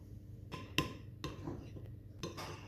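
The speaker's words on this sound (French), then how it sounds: "On va mélanger le tout." A utensil stirs melted chocolate and butter in a bowl for a chocolate fondant, with soft scraping and a few light clinks against the dish, faint and close, without any talking.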